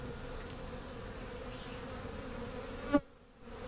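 Honeybees from a small cast swarm buzzing in flight around the hive, a steady layered drone that stays even, then one louder bee passes close and the buzzing briefly drops away before resuming.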